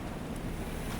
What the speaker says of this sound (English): we're starting to kind of hop waves now.